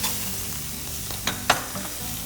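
Shrimp and garlic sizzling in hot oil in a pan, a steady frying hiss with a couple of sharp spatters and clicks, close and alone.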